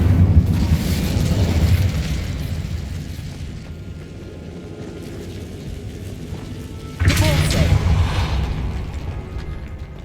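A Bombarda blasting spell goes off in Hogwarts Legacy, a deep rumbling boom that swells and fades, then a second loud burst lands near the end, with no talk.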